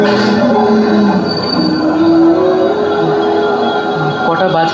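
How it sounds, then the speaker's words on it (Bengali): A train arriving at a station, a loud continuous rumble with rising and falling squealing tones as it slows, under a busy background. "আপনার ট্রেন এসে গেছে,"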